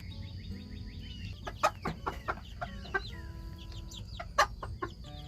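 A homestead hen with baby chicks clucks close by, a series of short, uneven clucks and soft calls over a low background murmur.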